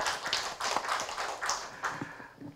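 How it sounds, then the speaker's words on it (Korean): An audience applauds the Gwangju regional self-sufficiency center at a city urban regeneration forum. The clapping is scattered and steady at moderate loudness, with no talking. "광주 지역자활센터에 다시 한번 큰 박수 부탁드리겠습니다."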